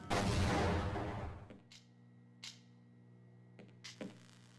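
A loud explosion in the Half-Life mod ESHQ booms up close and rumbles away over about a second and a half, leaving a steady low hum with a few faint thuds afterward.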